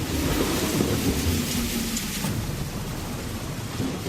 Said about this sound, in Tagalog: Ay, ang lakas ng ulan sa labas.